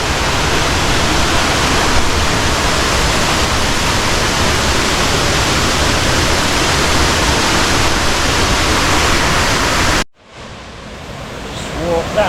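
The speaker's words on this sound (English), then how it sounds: "Welcome to Anyar Waterfall." Uma Anyar waterfall in Bali roars steadily as a loud, close, broadband rush of falling water for about ten seconds, then cuts abruptly to a much quieter ambience that gradually swells back up.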